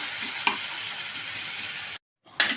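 Potato and pointed gourd korma sizzles in a pan while being stirred, with a steady hiss and a brief scrape. The sound cuts to silence for a moment, then the sizzle returns loudly.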